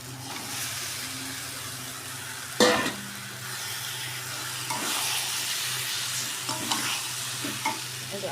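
Mutton sizzles and is stirred in a little spiced oil in a pan. A continuous close fry hiss runs throughout, with a sharp scrape or clatter of the spoon near the start and softer stirring knocks later.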